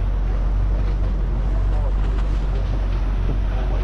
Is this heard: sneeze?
no